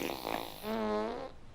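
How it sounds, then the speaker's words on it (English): A juicy fart sound effect for Bad Janet, one short wet buzzing burst that swells and fades, with no talking over it. "they put in this great like juicy fart sound."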